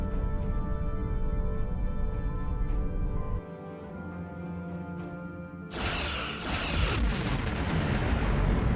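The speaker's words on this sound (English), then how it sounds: "Target that ship, and fire all weapons!" Starship weapons fire in Star Trek Online: a rumbling barrage under a droning score, then a sudden loud blast bursts in and keeps roaring through the end.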